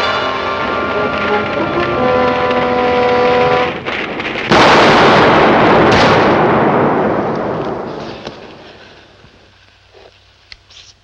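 Bombs exploding to seal a tunnel in a 1942 film serial, a huge loud blast after a few seconds of tonal music, followed by a long rumbling roar that slowly fades into near silence.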